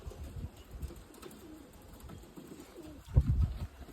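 Pigeons coo softly and repeatedly at a flock kept for flying, with a low murmur throughout and a louder burst of cooing near the end.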